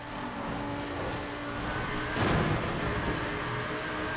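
A fast car in Forza Horizon 4 roars at full throttle, its engine drone steady and loud with tire noise, swelling briefly midway as it is floored, and nobody talks.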